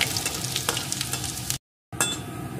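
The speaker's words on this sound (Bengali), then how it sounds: "রসুন কুচিটাকে একটু নাড়িয়ে নেব।" Chopped garlic stirred and fried in hot oil gives a close, steady crackling sizzle with spoon scrapes, broken by a short silent gap before the frying resumes.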